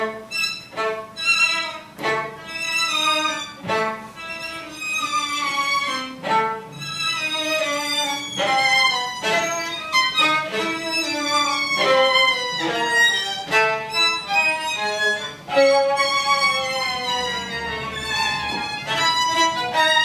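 Strings play sul ponticello with heavy, almost artificial vibrato, giving glassy, wavering tones in short fragmented phrases. The playing swells and dips in loudness over a long, continuous stretch, close up, with no talking.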